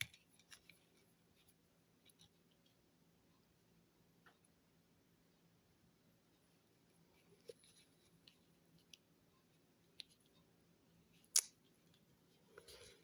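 Scissors snip embroidery thread at the end of a cross-stitch piece: a single short, crisp cut near the end in a quiet room, with a few faint handling taps before it.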